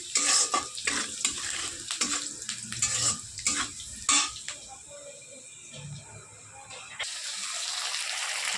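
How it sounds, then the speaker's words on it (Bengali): Onions sizzle in hot oil in a pan as a spoon scrapes and stirs in quick, clattering bursts, then the frying settles into a quieter, steady hiss. "পেঁয়াজটা ভালো করে ভেজে নিয়ে মধ্যে মশলা দেবো।"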